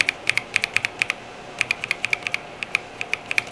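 Tactile boba mechanical keyboard switches typed in quick bursts, each sharp, bright keystroke click close and distinct, with brief pauses between runs and no talking.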